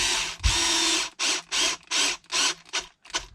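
Ratcheting clicks from a hand tool giving a final snug to the screws on a Traxxas XRT rear suspension, heard as a long burst followed by five or six short, close bursts of rapid clicking with brief gaps, no talking.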